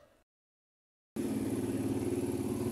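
Motorcycle running while being ridden in Baliwag on a hot day, a steady close engine drone that cuts in after a brief silence and holds at an even, pulsing level.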